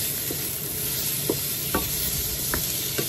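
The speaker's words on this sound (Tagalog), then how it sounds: "Then, sunod na po natin ang ating pork. Yung slice lang po ang ginamit kong pork." Sliced pork sizzling and frying with softened onion in a pan for Filipino pinakbet, a steady bright hiss with a few soft stirring scrapes and taps, close and continuous with no talking.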